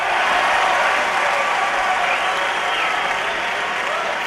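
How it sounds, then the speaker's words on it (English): Spectators cheer and applaud in a dense, steady roar through a golf swing during a tournament round at Kapalua, a loud, continuous wash of clapping and crowd noise with no pause. "Why are you cheering in my swing?"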